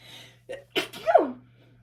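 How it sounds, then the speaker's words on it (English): A single loud sneeze with a sharp intake of breath before the burst, close up, followed by quiet. "excuse me, y'all. I really rarely sneeze"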